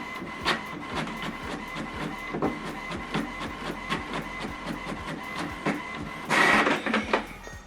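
An HP printer runs a colour print job, its mechanism giving a steady series of rhythmic clicks and whirs with a brief louder feed burst near the end, close and moderately loud with no talk.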